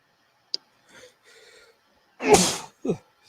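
A single sharp sneeze bursts out loudly in an indoor museum corridor, set between quiet murmured talk and followed by a short vocal sound.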